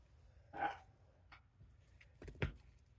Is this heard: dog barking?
yes